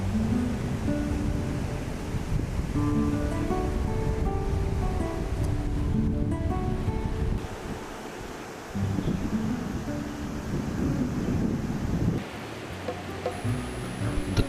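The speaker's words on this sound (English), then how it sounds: "The waves are gentle." Gentle ocean waves wash in at Lakshmanpur beach on Neil Island in the Andaman Islands, a continuous rushing surf with soft breeze, brief lulls and a faint high tone near the end.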